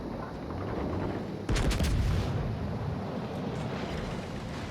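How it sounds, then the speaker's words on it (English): Battleship Anhalt fires a full broadside in a naval gunnery game, a sudden loud blast of guns with a brief burst of crackle that settles into a steady rumble of engine and sea noise. "Get a full broadside on him."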